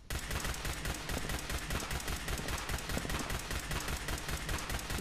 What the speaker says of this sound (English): There, I fired off a shot